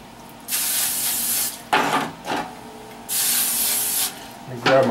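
Cooking spray hisses onto baking pans for homemade bread in two long close bursts, with short rustles and a clank between them and another brief spray at the end.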